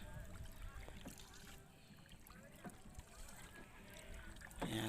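Quiet splashes of a paddle dipping into water near a small wooden boat, with faint background noise and occasional knocks against the hull.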